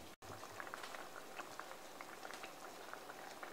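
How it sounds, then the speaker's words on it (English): Garden tomatoes boiling hard in a pot as they cook down into tomato paste, a steady close bubbling and popping that runs the whole time with no talk. "boiling a little bit too hard, I actually turn mine down just a little bit"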